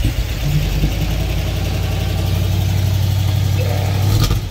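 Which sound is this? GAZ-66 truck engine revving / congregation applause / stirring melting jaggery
GAZ-66 truck engine revving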